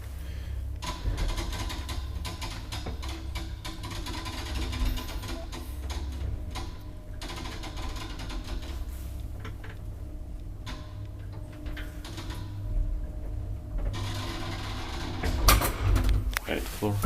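A 1981 Transporta elevator runs steadily, giving a continuous low hum with ticking, creaking mechanical clatter throughout and a few louder knocks near the end.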